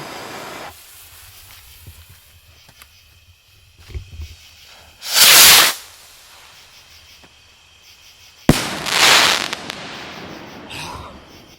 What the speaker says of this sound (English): Those are fantastic rockets.